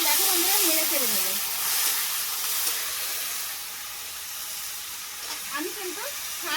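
Papaya, potato and green chili hitting a hot pan in a village kitchen, giving a loud, steady hiss that eases a little over several seconds while someone talks over it.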